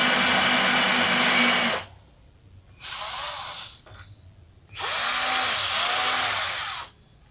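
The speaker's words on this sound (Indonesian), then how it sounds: "Untuk jalan kabelnya kita bor bagian sini aja" A power drill whirs loudly in two long bursts with a shorter burst between, drilling the edge of an LED lamp housing, each burst starting and stopping abruptly, close up with quiet gaps.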